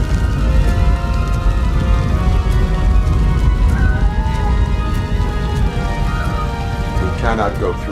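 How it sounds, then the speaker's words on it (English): A fire burns steadily in the RoboCop: Rogue City video game, a loud continuous crackling roar with no breaks, mixed with tonal background game sound and a brief voice near the end. "Fire is blocking the way."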